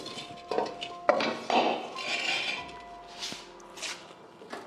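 Heavy iron kadhai and large metal plates clanking and scraping as they are handled on a veranda of an old haveli, several sharp metallic knocks and rattles at close range with no talk.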